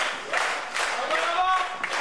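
A wrestling crowd at a small RWA show reacts in surges of clapping and cheering, rising and falling in waves across a couple of seconds with a voice talking over it.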